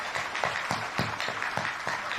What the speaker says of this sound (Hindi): लगता है तालियों में कंजूसी ठंडी ज्यादा पड़ रही है